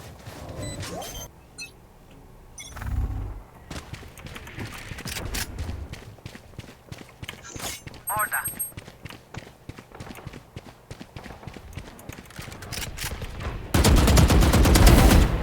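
In Valorant, bursts of gunfire crackle and rattle through the round alongside footsteps and other game effects, ending in a louder, dense stretch of noise.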